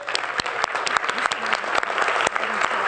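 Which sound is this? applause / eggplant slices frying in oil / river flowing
applause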